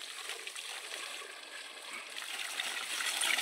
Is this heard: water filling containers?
yes